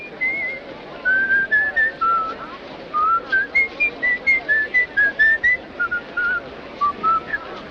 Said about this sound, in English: Please, don't whistle a samba.